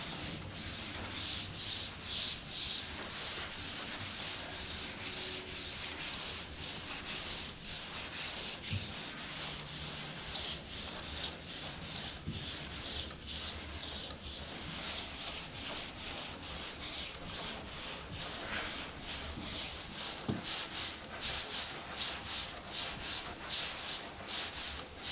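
Hand block sanding of primer on a car door over filler with guide coat: close, rhythmic back-and-forth rasping strokes repeating steadily for the whole stretch, no voices.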